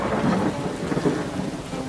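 Steady rain falling during a thunderstorm, a dense, even wash of sound with a low rumble of thunder underneath, no voices.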